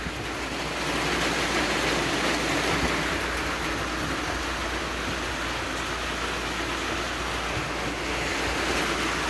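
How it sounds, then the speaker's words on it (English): Steady rain falls outdoors on a hillside property, a constant broadband hiss with some wind rumble underneath, even and unbroken throughout. "Yeah, here's rain again."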